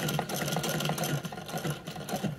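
A vintage sewing machine stitches a bag steadily, a rapid mechanical clatter with a rhythmic whir, close by and unaccompanied by talk.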